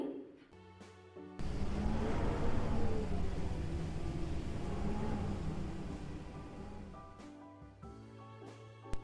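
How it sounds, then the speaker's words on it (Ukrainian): A steady, rushing whoosh of wind swells and lingers for several seconds, framed by brief tonal sounds at the start and end. "Так, це звук вітру."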